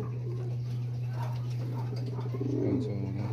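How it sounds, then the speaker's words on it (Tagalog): Newly paired pigeons coo softly in a loft, low rolling calls repeating over a steady low hum, faint and close. "antayin natin kung magpapares sila kaagad mga kalapatids"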